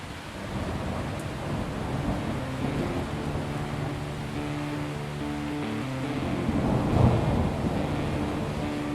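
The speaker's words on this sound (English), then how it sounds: "It started to rain" Storm ambience with rain and thunder, a continuous broadband wash of rainfall and wind with a low rumble swelling near the end.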